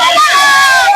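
Dense crowd noise from party workers celebrating a Shiv Sena (UBT) candidate's municipal election win in Mumbai ward 169, a steady roar of overlapping voices and shouts throughout the brief moment.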